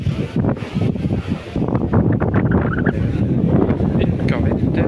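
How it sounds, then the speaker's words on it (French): Wind blows hard at a historic car circuit, a dense low buffeting roar on the microphone that stays strong throughout, with faint distant sounds mixed underneath. "Putain, il y a du vent."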